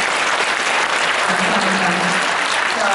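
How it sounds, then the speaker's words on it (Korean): Sustained applause from a large audience at a Gyeongbuk youth counseling volunteers' convention, welcoming a director, steady and dense throughout with a faint voice briefly underneath. "우리 윤정길 원장님 박수 한번 보내겠습니다"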